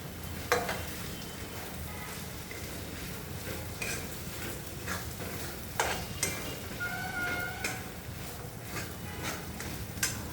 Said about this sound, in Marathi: आणि हे आपण खोबरं जे खिसलेलं होतं हे या तेलामध्ये छान भाजून घेऊ।